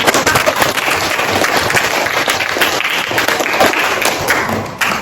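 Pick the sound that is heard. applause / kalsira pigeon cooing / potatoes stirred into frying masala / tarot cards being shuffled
applause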